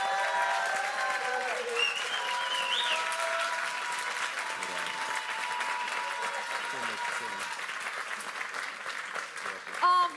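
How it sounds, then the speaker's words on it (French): Audience at a live stage show clapping in sustained applause, steady and full throughout, with a voice calling out over it near the start. "encore un tonnerre d'applaudissements pour Meuf."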